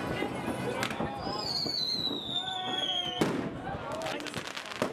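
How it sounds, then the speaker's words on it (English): Fireworks set off from two docked Hurtigruten boats over the small Norwegian town of Rorvik on New Year's Eve, with rising whistles, crackles and popping bursts that are fairly faint and distant. "We knew fireworks were being set off from the two boats"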